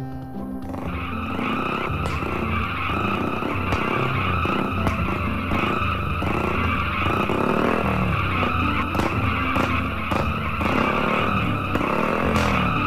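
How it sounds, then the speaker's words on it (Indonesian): Engine roar of a motorbike in the GTA SA Lite mobile game mod, a continuous loud droning exhaust note with tire-skid-like texture, steady throughout without speech. "Bagaimana suara soundnya atau bagaimana suara knalpotnya?"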